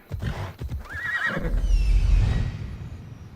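A horse in Assassin's Creed Odyssey gives one short, close whinny after a couple of hoof clops, followed by a low snorting rumble as it fades.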